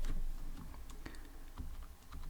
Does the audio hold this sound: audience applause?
no